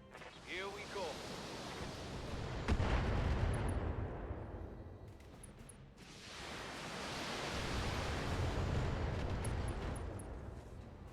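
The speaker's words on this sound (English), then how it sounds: "Always trust that explodey center torso ammo to blow up in the thunderbolts" A Thunderbolt mech blows apart from a center torso ammo explosion in BattleTech, with a heavy booming blast that swells into a long rumbling roar, then a second surge of rumble later.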